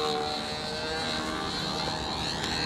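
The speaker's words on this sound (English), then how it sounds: "Just fly the plane." Steady broadband roar of an airplane in flight, likely a Boeing 707 on a windy day, continuous and fairly loud with a faint high whine throughout and no voices.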